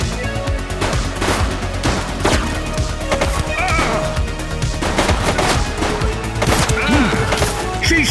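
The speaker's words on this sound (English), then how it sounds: "She's shooting!" Loud, sustained gunfire in the police action game The Precinct, with rapid overlapping shots and bursts filling the whole stretch, up close and constant.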